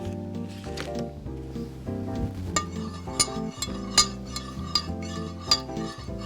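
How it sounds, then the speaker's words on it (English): Peach sangria with simple syrup is stirred in a container, with a steady run of close spoon clinks and scrapes that peak in several sharper taps, alone and without talking. "Now we're just going to give this a stir."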